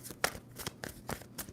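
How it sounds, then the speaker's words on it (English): Brief riffles and flicks from a tarot card deck being shuffled by hand, a few separate crisp bursts close by with no voices. "2 more shuffles"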